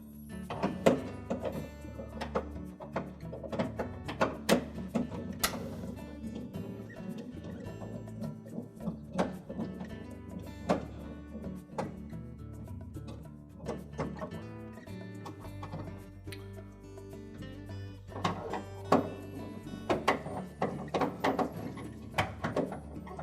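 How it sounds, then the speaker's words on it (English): Quarter-inch hex head screws being backed out of the control housing in the ceiling of a Whirlpool refrigerator, giving repeated soft clicking, ratcheting and thunking tool sounds at close range with no talk. "remove two 1/4" hex head screws that secure that control housing to the ceiling"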